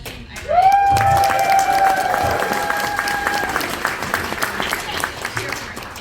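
An audience at a Dragon Con convention panel breaks into loud, sustained applause with whoops and a long high cheer rising over the clapping, which gradually thins out over several seconds.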